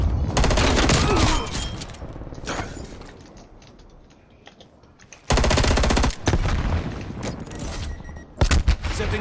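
M60 machine gun firing in the video game Black Ops: loud, dense bursts of rapid automatic fire, a quieter stretch with mechanical clicks and rattles, then more sustained bursts.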